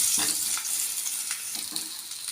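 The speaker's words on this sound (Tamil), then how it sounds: "நான் இப்போ இந்த எண்ணெயில் கொஞ்சம் இந்த பெரிய வெங்காயத்தை சேர்த்துக்கிறேங்க" A large onion fries in hot oil for a green pea vegetable kurma, giving a steady, dense sizzle with a few soft stirring scrapes, close and continuous, with no voices.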